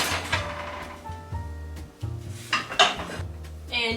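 A metal baking pan of blueberry bars is pulled from the oven, giving a series of clanks, scrapes and knocks against racks and counter, close and fairly quiet, with ringing metallic taps scattered across a few seconds.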